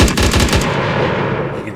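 Weapon fired in an Unreal Engine third-person game: a quick burst of about six loud rapid shots, then a fading echoing tail.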